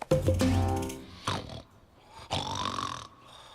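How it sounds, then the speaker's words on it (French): Deep, rattling cartoon snores come in three separate breaths with quiet gaps between them, close and fairly loud. "Quel ronflement!"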